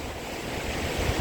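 Waves from the Tasman Sea wash against the breakwaters near Wollongong Lighthouse, a steady broadband surf roar mixed with wind noise, continuous and fairly loud with no distinct breaks.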